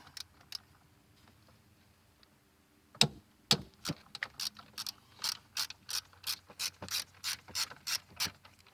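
A ratchet loosens the coil pack bolts on a 2008 Nissan Versa: a few sharp cracks as the torqued bolts break free, then a steady run of close, rhythmic clicking.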